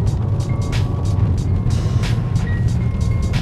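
Inside a Kia Optima SX L with an engine of about 280 horsepower, driving over cobblestones brings a steady, heavy low rumble of road noise, with faint rhythmic thumps from the tyres on the stones.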